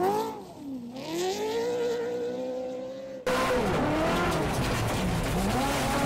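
Ferrari-engined Subaru rally car racing at full throttle, a loud, high engine note rising and falling through the gears, with a hard cut to a second burst of raw, roaring acceleration.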